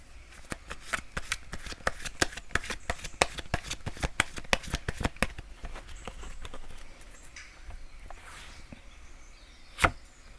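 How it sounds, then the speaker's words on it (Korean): Tarot cards are shuffled before one is drawn, with a fast run of sharp papery flicks in a steady patter for about five seconds, then softer sliding and a single louder snap near the end, close and without talk. "그러면 코코넛님을 위한 조언 카드 한 장 뽑아보도록 하겠습니다."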